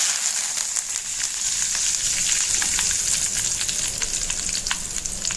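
Spices and turmeric sizzling in hot oil for mulakaada pachadi, a continuous bright crackling fry with scattered pops, steady and close, with no talk.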